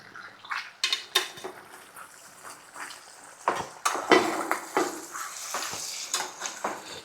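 A ladle stirs and scrapes potato fry in a pan, giving irregular metallic scrapes and clinks over a soft background sizzle, close up and fairly quiet.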